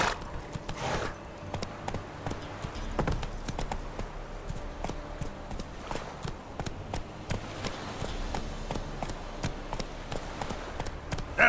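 Roach, a horse in The Witcher 3, gallops with a steady, fast clip-clop of hooves that stays close and loud throughout, over faint ambient game background.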